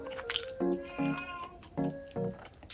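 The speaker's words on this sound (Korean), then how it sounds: "고양이가 날 부른다." A cat meows four times in a row, each call clear and fairly close, with short pauses between them and no talking.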